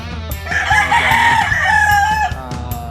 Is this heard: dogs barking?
no